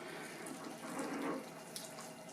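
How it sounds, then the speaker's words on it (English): Water pours steadily into the soil of a potted indoor tomato plant for a deep first soaking with a nutrient feed solution, a soft continuous splashing trickle that swells briefly in the middle. "So we're going to soak this guy in really good."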